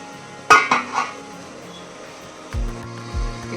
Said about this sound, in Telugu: ప్లేట్ వేద్దామండి.